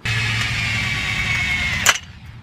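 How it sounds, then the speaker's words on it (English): A Hyper Tough power drill with Hyper Tough bits bores out rivets on sailboat rigging, a steady high whine running close and loud for nearly two seconds before a sharp burst and sudden drop as it cuts off. "this should be a top-notch drill that I can use to take out these rivets"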